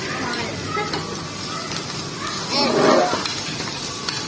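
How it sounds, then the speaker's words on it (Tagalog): Corned beef sizzles in a frying pan with a steady hiss under the bustle of a home kitchen, swelling briefly louder midway, while an adult and children talk nearby. "It's sizzling"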